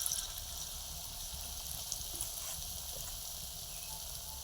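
Onion pakoras deep-frying in oil, a steady high hiss of bubbling fat held evenly throughout at a moderate, close level with no voices.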